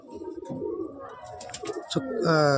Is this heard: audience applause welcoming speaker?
no